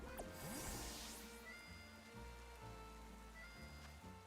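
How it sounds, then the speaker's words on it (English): Steady rain falls in the video game Pokemon Legends Z-A, a faint continuous patter over soft game music with no voices. "Started raining"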